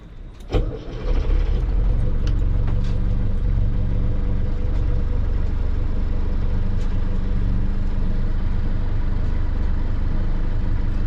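A boat engine turns over and settles into a loud, steady low rumble that continues unbroken, with occasional faint clicks on top.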